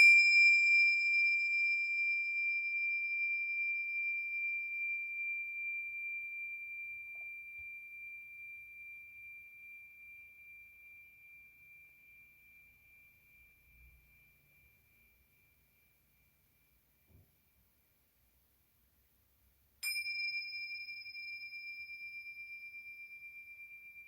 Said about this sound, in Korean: 모든 생각도 내려놓으시고 종소리에 집중해 봅니다